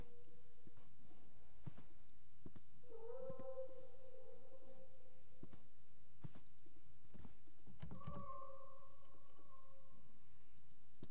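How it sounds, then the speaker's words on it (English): A cat in the video game The Last Door gives two drawn-out meows amid soft clicks and faint background ambience. "I guess I'll investigate the cat in a second."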